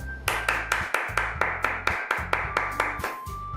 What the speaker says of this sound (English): I'm the first to start applauding.